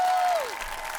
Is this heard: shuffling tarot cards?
no